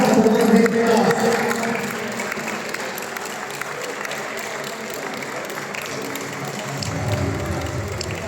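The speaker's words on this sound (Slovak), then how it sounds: "Takže prosím potlesk Martinčania." An audience at a Winter Cup tournament award ceremony applauds a bronze medal team, steady clapping that starts loud, holds through the middle and swells again near the end, with a voice speaking over it.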